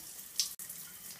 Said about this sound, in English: I told John that for my birthday, I just wanted to take a long shower.